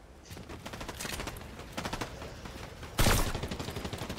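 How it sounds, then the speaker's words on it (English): Rapid bursts of gunfire from a Fortnite match, including suppressed sniper rifle shots, crackling in a steady stream with a louder close volley near the end. "they're still shooting at you"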